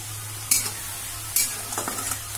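Onions frying in a pan as a Hindi home cook prepares an egg masala, a steady background sizzle punctuated by a few sharp scraping stirs of a spoon.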